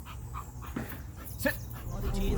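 A dog being trained as a guard dog gives short whimpers and soft yelps close by, with a person speaking over it.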